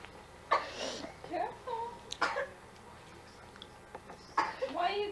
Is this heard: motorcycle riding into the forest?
no